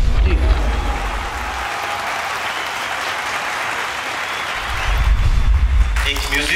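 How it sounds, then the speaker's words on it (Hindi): A large audience at a Sikh arts and film awards program in India claps steadily and continuously, with low rumbling room noise underneath at the start and end. "जोरदार, सबके लिए तालियां।"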